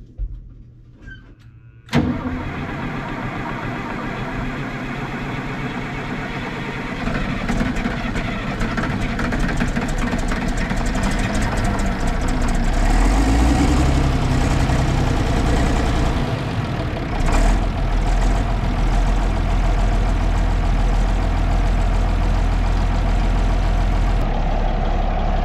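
A 1974 John Deere 7520 tractor's diesel engine cranks and catches at about two seconds, then settles into a steady, loud, close idle that rumbles on for the rest of the clip.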